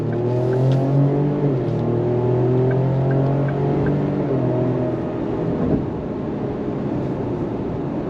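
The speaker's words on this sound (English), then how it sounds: "I like the sound that you're getting in this thing with the twin turbo V6" Twin-turbo V6 in a 2026 Ford Explorer Tremor SUV accelerating under throttle, a loud sustained engine drone rising and falling in pitch over several seconds, heard from inside the cabin.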